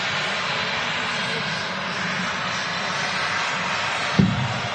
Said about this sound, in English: easyJet A320 in from Nice,